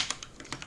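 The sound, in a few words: typing on a computer keyboard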